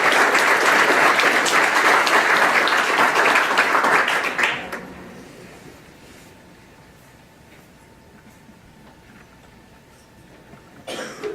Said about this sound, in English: So can I ask you to give them all a round of applause?